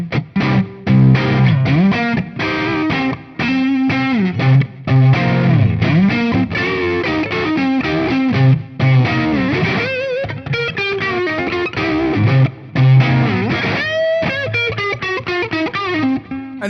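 Overdriven electric guitar through a MESA/Boogie Badlander tube amp with a gritty, snarling old-school bluesy tone, played as loud, continuous riffs and bent notes with brief pauses.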